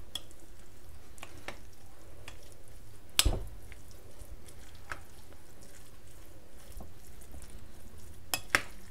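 A chicken pastilla filling with onions from a reduced sauce is stirred in a pan, a soft wet sizzle with scattered sharp scraping clicks, one louder knock near the middle and a few near the end, no talk.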